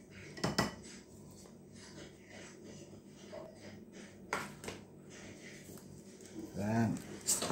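Blueberry batter is stirred in a bowl, the spoon knocking and scraping in scattered clinks with a couple of louder taps, while a voice talks faintly in between.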